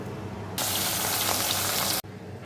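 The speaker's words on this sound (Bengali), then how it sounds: "তো দেখো তেল দিয়ে দিয়েছি আর মাছগুলো ভেজে নেবো" Lata fish hit hot oil in a pan, and a loud, dense sizzle bursts up suddenly, holds for about a second and a half, then cuts off abruptly, leaving a lower background.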